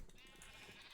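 Sheep bleating in a modded video game, a steady nasal bleat lasting just under a second, fairly close and with no talk over it.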